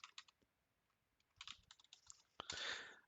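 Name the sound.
typing a website address on a computer keyboard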